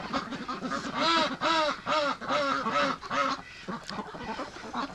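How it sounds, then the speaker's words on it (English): Ducks, including a white duck, quacking on fresh water in winter, a run of loud nasal quacks in quick succession, fairly close, with a quieter call trailing off at the end. "There's a beautiful white duck right there."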